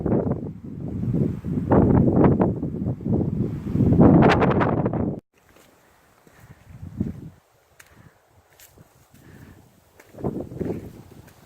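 Wind gusts roar loudly across a foggy mountain top on Black Balsam Knob in Pisgah National Forest, buffeting the microphone for several seconds, then dropping to faint rustling with occasional weaker gusts.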